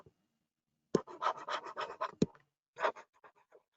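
A pen scratches across paper as names and journal entries are written by hand during an accounting lecture, with close, scratchy strokes in two bursts separated by short pauses and sharp taps.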